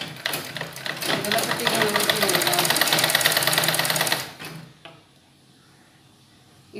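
Electric sewing machine stitching the side seams of a woman's suit, a steady rapid mechanical whir running loud for about four seconds before stopping, with someone speaking over it.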